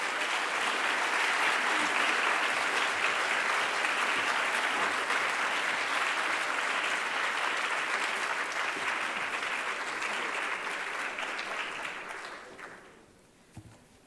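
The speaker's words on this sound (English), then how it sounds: "Now, could you please give our warm applause to Mr. Sawamura." Audience at a reading promotion award ceremony giving sustained warm applause, a dense steady roar of clapping that continues for a long stretch before tapering off and fading out.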